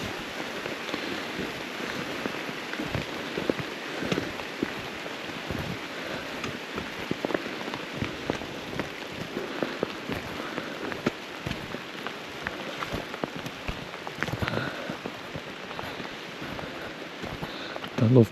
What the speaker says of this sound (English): I love being by the sea when it's raining